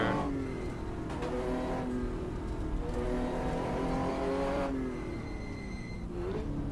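A 1966 sports car engine at half throttle in the GTR2 racing game on the Targa Florio course, a loud, steady drone whose pitch rises and falls with shifts through a short climb, alone with no voices.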